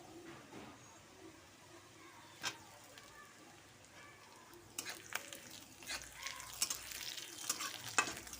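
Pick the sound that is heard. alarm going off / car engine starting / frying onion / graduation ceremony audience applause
frying onion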